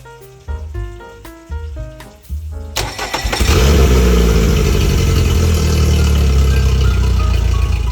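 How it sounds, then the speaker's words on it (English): Rebuilt outboard engine of a 6 m military-grade Zodiac rescue boat: a series of cranking attempts, then it catches and roars into a loud, steady, close running idle. "This is why I decided to start the engine for the first time."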